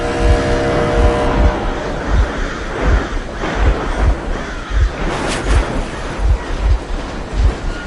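In the video game Metro Exodus, the engine of the Aurora steam locomotive runs, giving a loud mechanical rumble with regular heavy thumps about every half second, like wheels clacking over rail joints.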